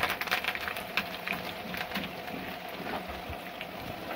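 Chana dal, cumin, dried red chillies and curry leaves tempering in hot oil for a ridge gourd curry give a steady, fairly quiet crackling sizzle with scattered pops throughout.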